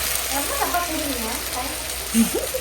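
Onions and masala fry in a pan with a continuous close sizzle and hiss, while voices talk over it throughout.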